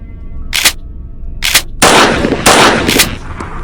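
Loud bursts of rapid gunfire erupt in several short volleys in the video game Granny Chapter Two, close and sharp, with brief pauses between them.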